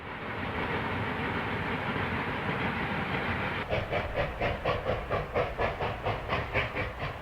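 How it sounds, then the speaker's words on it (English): Two Mikado steam locomotives labor hard up a narrow gauge grade on the Rio Grande line near a highway crossing, a steady roaring rush at first, then rapid rhythmic exhaust beats pounding loud and close. "The two Mikados are working hard at the Highway 17 crossing near milepost 338."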